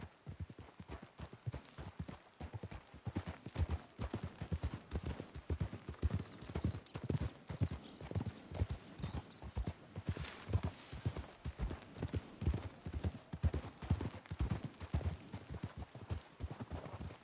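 Horses ridden in the Western video game Red Dead, their hooves beating a steady, rhythmic clip-clop at close range for the whole stretch, with an occasional faint snort or whinny.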